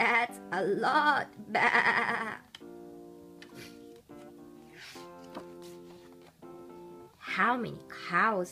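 Several sheep bleats ring out, wavering and nasal, some close and loud, others softer, with quieter stretches between them.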